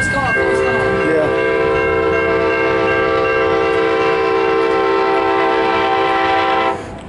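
A MARC commuter train sounds a loud, sustained multi-tone horn for nearly seven seconds as it passes eastbound on a double-track line, the chord starting abruptly and cutting off near the end over steady rail rumble.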